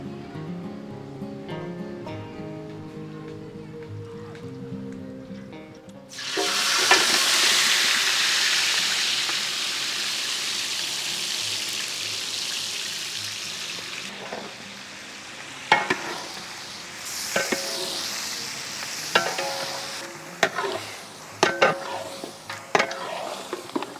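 Mutton sizzles loudly in hot cooking oil, a steady close frying hiss that starts abruptly and later gives way to clatters and scrapes of stirring in the pan.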